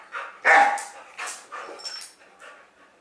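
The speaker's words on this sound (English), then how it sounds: "See how he's tense, he's barking" A tense, worked-up dog barks several times in quick, uneven bursts, fairly close and loud, with some whiny, yelping tones mixed in.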